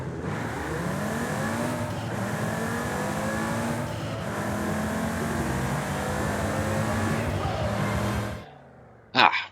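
An Audi TT RS with a stock engine, driven in Forza Horizon 5, revs up through the gears with rising engine notes broken by shift gaps, then cuts off before a brief loud burst at the end.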